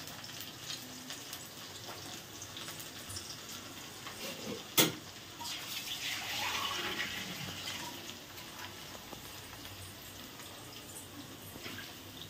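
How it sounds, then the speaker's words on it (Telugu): Water is poured over soaking ingredients in a home kitchen, a steady splashing wash with one sharp clatter partway through and no voices. "ఇట్లా నిండా పోసుకోవాలి నీళ్ళు, అంటే అన్నీ తడవాలి"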